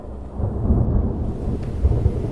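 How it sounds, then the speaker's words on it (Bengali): Thunder rumbling through a stormy sky in a cartoon telling of a village nor'wester storm, a continuous deep, loud roll with a couple of heavier swells near the end, no voices. "আকাশে গুরু গুরু মেঘ ডাকতে লাগলো।"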